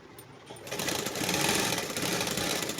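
A sewing machine stitches a pant, starting quietly then running in a steady, continuous whir close by for a couple of seconds.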